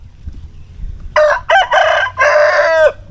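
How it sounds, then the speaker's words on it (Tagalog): A rooster crows close and loud in a few broken bursts, ending in a long drawn-out final note over a quiet outdoor background, with no one talking. "so ito yung manok."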